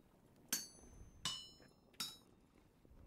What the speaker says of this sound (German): Weil wenn der Hammer schlägt, ne, der... Ja, wie heißt er denn hier? Ne, der Kollege, der Stielhammer.